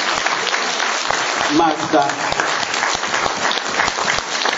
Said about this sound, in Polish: malutkie brawa poprosimy